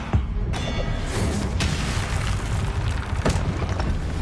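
Explosions from the Confringo spell in the Hogwarts video game, a few sharp bursts over a constant loud rumbling background.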